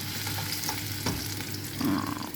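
Onions frying in a pan alongside garlic, a steady close sizzle running the whole time, with a soft knock of a stirring spoon partway through and a brief scrape near the end.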